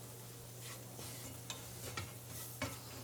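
Flour cooking in butter and fat is stirred in a pot for a light roux, with a few soft scrapes and taps of a utensil over a low steady sizzle, quiet and close.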